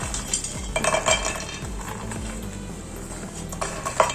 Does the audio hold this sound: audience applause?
no